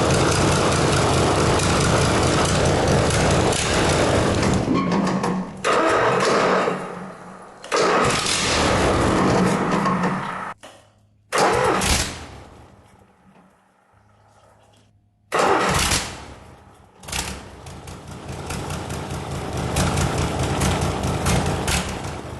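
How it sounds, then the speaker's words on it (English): An engine run with one cylinder head removed as an experiment: it cranks and starts repeatedly, running loudly and roughly in bursts, then cuts out to near silence between attempts, close to the microphone. "I'm ready to start the engine without one cylinder head."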